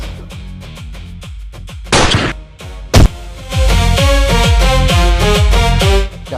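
Gunshots ring out in a Hindi film scene, a couple of sharp loud cracks among thuds and background music beats.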